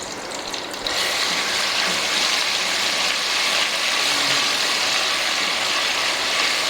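Mustard seeds and ginger-garlic paste hit hot oil in a pan and set off a sudden, steady, close hiss that keeps going without a break.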